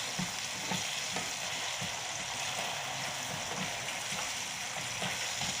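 Fried potatoes with pepper sizzling steadily in a pan, a constant close hiss with soft scraping taps as a spatula levels them out; no talking.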